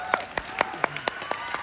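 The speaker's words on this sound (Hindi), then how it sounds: "जब आप आए तो बार बार तालियां बजाई जा रही।" An audience at a direct-selling event speech applauding in a quick, evenly spaced series of about eight sharp claps, close and distinct, with a voice faintly underneath.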